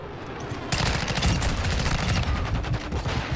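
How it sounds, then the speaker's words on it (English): The Chimera SMG assault rifle in Call of Duty Modern Warfare II fires a sustained, rapid automatic burst, loud and close. It opens with a sharp onset and keeps up a dense rattle of shots to the end. "This is one of those SMG assault rifles."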